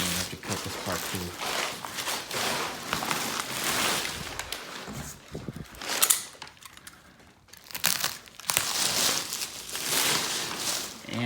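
Blade cutting open the packaging of a Sparco EVO II racing seat, continuous loud crinkling, tearing and rustling of plastic and cardboard up close, with a brief quieter pause midway and some speech mixed in.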